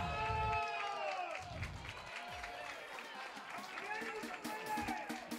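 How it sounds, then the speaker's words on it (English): Catalan spectators at a Barcelona versus Central College (Iowa) match cheer and applaud in a steady burst of crowd noise, with a voice talking over the top throughout. "They're cheering on the coach"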